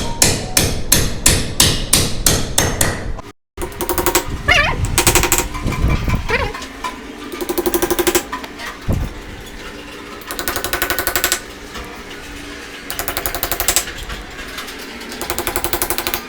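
A hammer taps a fastener into gypsum false ceiling framing with rapid, loud, close metallic blows in bursts, a brief pause, then more irregular strikes and knocks.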